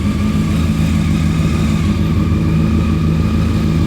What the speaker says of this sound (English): What do you think about your bike, Sam?